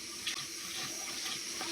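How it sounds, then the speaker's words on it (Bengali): Aloe vera is rinsed under running water for a village herbal hair pack, giving a steady close splash and gush of tap water with no speech. "এই যে অ্যালোভেরাটা ভালোভাবে ধুয়ে"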